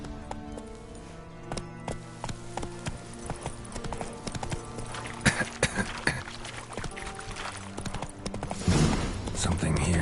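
Horse galloping in The Witcher 3, rapid rhythmic clip-clop hoofbeats running continuously up close, with game ambience and a voice talking over it.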